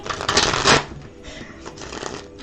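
A deck of playing cards is shuffled up close, a loud dense riffle followed by softer shuffling and light tapping, no voices.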